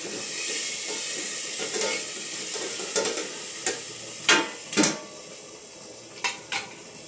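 Green chillies fry in a pan with a constant hiss of hot oil, while a spoon scrapes and knocks against the metal several times toward the end.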